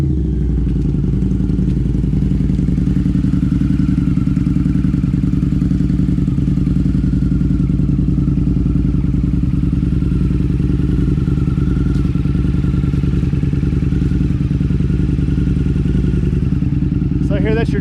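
A motorcycle engine drones steadily throughout while riding, with constant low rumble and wind noise, close up.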